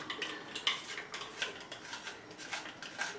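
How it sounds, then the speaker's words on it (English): Two garlic cloves being sliced with a small handheld kitchen slicer, a quick series of light clicking, scraping strokes, close and faint, with no voices. "So just 2 cloves, get them sliced on in there."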